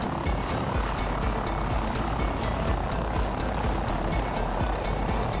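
A helicopter cruising in the FlightGear flight simulator over New Zealand makes a steady, loud rotor and engine roar with regular blade thumps, continuous and unbroken throughout.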